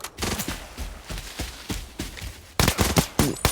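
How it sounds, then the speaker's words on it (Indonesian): Rapid bursts of gunfire in the video game Arena Breakout, a steady series of sharp cracks in quick rhythm, getting louder and denser toward the end. "Ditembak tak mati, tembak pun tak mati."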